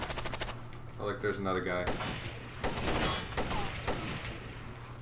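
Rapid gunfire in the video game Rainbow Six Vegas 2, bursts of automatic shots in quick succession across the clip, with someone talking over them.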